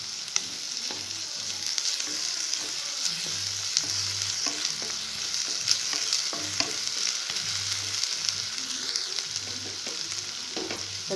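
Onion and ginger fry with fennel and cinnamon in a pan, a constant bright sizzle punctuated by repeated spoon stirs and scrapes in a steady rhythm, close and without speech.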